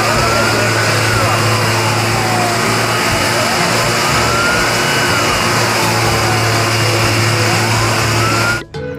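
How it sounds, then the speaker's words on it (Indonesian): A toy fire truck's electronic engine sound hums loud and continuous with rising and falling siren-like whines over it, then cuts off abruptly near the end. "Wah, ini mobil pemadam kebakaran."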